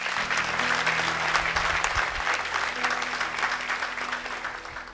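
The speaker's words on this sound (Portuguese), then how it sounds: "Dê um aplauso bem forte, Senhor." A church congregation applauds during an evening service, a dense, sustained wash of clapping from many hands filling the room at an even level, with a low hum of voices and instruments underneath.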